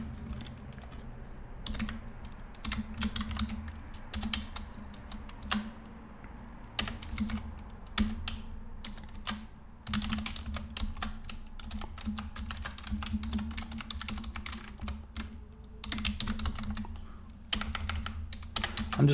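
Someone types steadily on a computer keyboard, writing code in a simple Python pandas script; the keystrokes come in close, rapid runs with short pauses and a low hum underneath.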